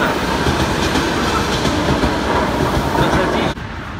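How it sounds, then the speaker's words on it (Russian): A train rumbles past close by, loud and steady with rhythmic clacking of wheels, cutting off abruptly near the end. "Могли бы проскочить мимо поезда."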